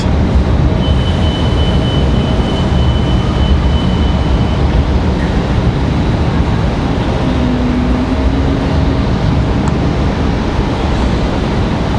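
A McDonnell Douglas MD-11 airliner taking off at Raleigh-Durham International Airport, a loud, continuous broadband jet roar with a faint high whine, heard steadily at a distance throughout with no talking.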